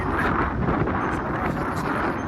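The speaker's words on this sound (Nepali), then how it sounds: "हावाको बेगले उच्च भएको छ" Strong wind buffets the microphone with a constant low roar and rumble, loud and unbroken throughout.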